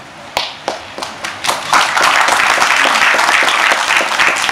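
An audience at a felicitation event for cancer patients gives scattered claps at first, then bursts into loud, sustained applause that fills the room.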